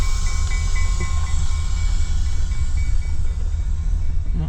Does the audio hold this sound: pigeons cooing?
no